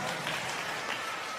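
An audience claps steadily in a hall, a soft continuous patter of many hands at moderate distance, with no voices over it.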